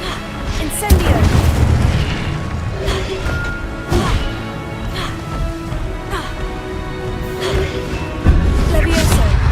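Spell effects from the Hogwarts Legacy video game, including the Incendio fire spell, land as repeated booming whooshes and crashing impacts every few seconds over a constant loud game background.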